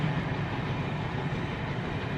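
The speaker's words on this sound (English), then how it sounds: "So that's a train going to Edinburgh," A train rolls steadily past at a station on the line toward Edinburgh, a continuous loud rumble and rushing roar with no clear breaks or voices.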